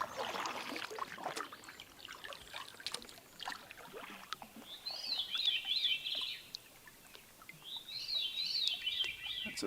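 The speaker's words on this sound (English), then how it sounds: "It's a veery calling" A veery, a kind of thrush, calls twice in a muggy lakeside wilderness before a storm, the high fluting phrases fairly faint and distant over soft water trickles and quiet rustling.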